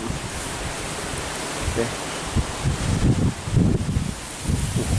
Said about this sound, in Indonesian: Mengerikan anginnya, bos.